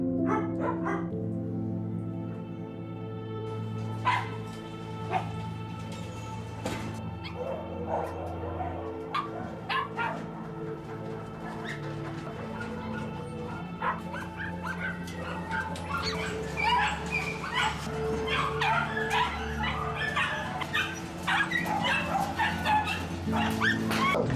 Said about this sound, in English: it can be entirely legal to keep a mother dog confined to a barren concrete cell in a shed for 23 hours a day